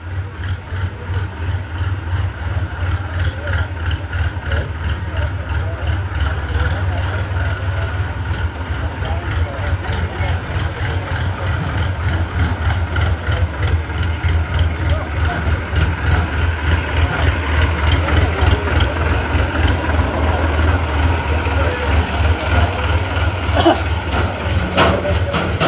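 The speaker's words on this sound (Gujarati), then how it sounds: "ટ્રેક્ટર ને લઈ જવા દે," A tractor engine rumbles steadily and loudly at a rural village political rally, its low throbbing drone building slightly as it passes close by, with someone talking over it throughout.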